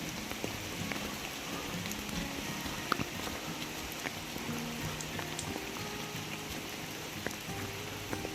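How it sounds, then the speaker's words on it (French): Steady rain falls on a morning along a hiking trail in France, a constant close hiss of patter with scattered individual drops, at an even level throughout and with no voices. "ce matin il pleut"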